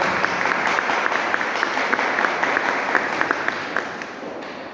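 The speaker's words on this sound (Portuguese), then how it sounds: "Vamos aplaudir esta palavra que cura, que liberta, que transforma." A church congregation applauds after a scripture reading, a dense, steady wash of clapping from many hands that fills the room and continues without pause, with no voices on top.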